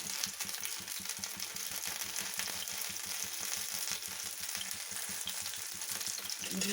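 Fish frying in oil over a low flame, a steady dense sizzle with fine rapid crackling throughout, close and even in level.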